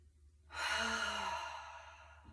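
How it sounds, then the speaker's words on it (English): A single full breath, drawn in through the nose and then released slowly out through the mouth as a long, soft, airy sigh that fades gradually. The breath is heard close up in a quiet room. "let's take a full breath in through your nose and exhale out the mouth"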